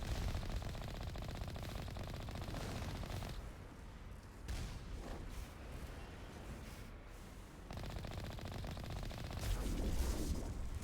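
The Mako vehicle in Mass Effect fires its guns in rapid, rattling bursts with booming impacts, loud and continuous with brief dips in intensity.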